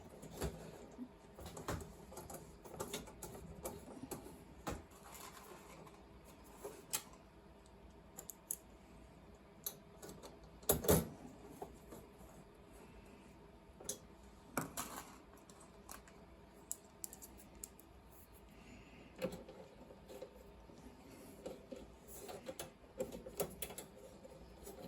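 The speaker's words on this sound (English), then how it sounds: "I'm not tightening the screws up, I'm just nipping them up" A screwdriver lightly nipping up the screws on a Compaq 286 Luggable portable computer during a teardown, heard as intermittent small clicks and metallic ticks, with one louder clatter midway, at close range with no talking.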